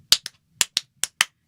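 Hand claps from the Audio Things Hand Clapper plugin, six sharp, dry claps in pairs with short gaps, close and isolated against silence.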